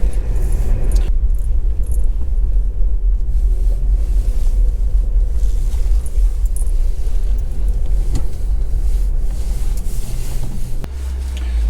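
A motorhome's engine rumbles steadily while the vehicle is being parked up, a low, continuous drone heard from close by with light rattling and jangling on top and no voices, before the tone shifts near the end.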